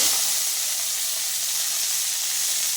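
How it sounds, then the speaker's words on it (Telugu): Steady sizzle of mustard seeds spluttering in hot oil, a fine crackling hiss, close and fairly loud, continuous for a few seconds with no voices. "ఈ ఆవాలు చిటపట్లాడాక కరివేపాకు వేసుకోవాలి"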